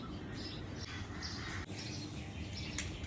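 Sparrows chirp in short, faint bursts near an open window on an evening at home, under a steady low rumble of background noise.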